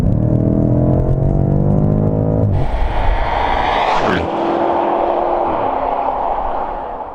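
A 2018 BMW M5 F90 engine pulls hard under full throttle, its loud harmonic drone rising steadily before a gear change and another climbing surge, with no talk over it.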